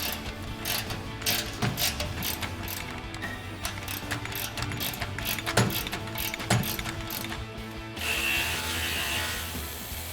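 A ratchet wrench with a 10mm socket removes the exhaust isolator bolts on a 2021-2024 EcoBoost F-150, giving rapid repeated clicking strokes close by with occasional louder clacks and no talking.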